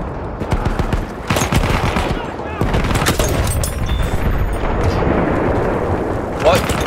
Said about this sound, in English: I'm shooting guys all over the place here